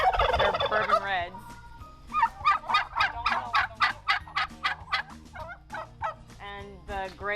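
Bourbon red and blue slate turkeys on a farm gobbling: a rapid run of loud, rattling gobbles, then a series of distinct gobble calls repeating about every half second, fairly close, with no talk.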